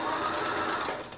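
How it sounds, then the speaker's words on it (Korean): A sewing machine runs a short, even burst of basting stitches at its longest stitch length on linen dress fabric, close by and alone, slowing slightly at the end. "총 2줄을 홈질을 해줄 거고, 재봉틀의 땀수는 제일 크게 해주세요"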